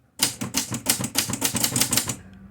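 Rapid, close keystrokes on a Torpedo Dynacord S typewriter clatter in a dense, even rhythm for about two seconds, with nothing else behind them.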